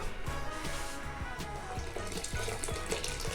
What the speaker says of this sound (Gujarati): ગરમ પાણી થોડુંક નાખીએ